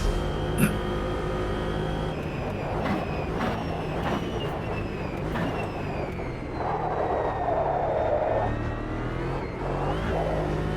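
Racing car engine in Automobilista 2, likely a Ginetta in a time trial, droning steadily with gear-change surges and a brief lift off the throttle, loud and continuous throughout.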